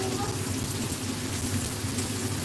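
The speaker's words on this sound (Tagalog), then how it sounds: "Hala, umuulan?" Steady rain falling outdoors, a dense, even hiss of drops on surfaces that runs unbroken and fairly loud through the whole moment.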